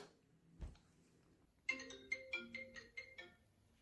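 A telephone ringtone plays while a call to a friend is placed, a short series of bright electronic chime notes in quick succession after a soft thump, fairly faint and alone without talk.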